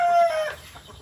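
Poultry being fed in the evening let out a single short, loud cluck up close, which fades quickly into quieter farmyard background.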